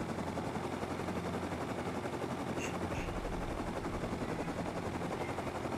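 Helicopter in Rust heard in flight, a steady rapid rotor chop with dense engine drone, fairly faint and continuous throughout, with no clear speech over it.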